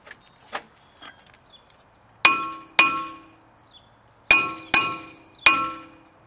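Five sharp metallic strikes of a hammer on a rusty Subaru brake rotor, ringing loudly and close, arriving in two quick pairs then a run of three, after a few fainter knocks.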